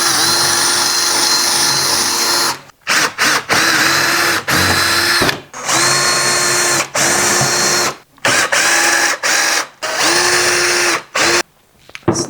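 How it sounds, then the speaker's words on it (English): Power drill drilling out plastic clips on a used golf cart: loud, close whining bursts of the drill, stopping and starting every second or two, with brief pauses between runs. "I'm just going to drill out these plastic clips like I did on the back"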